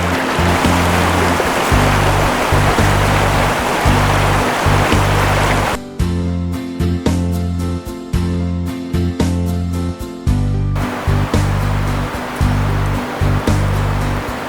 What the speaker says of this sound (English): Right here by the creek.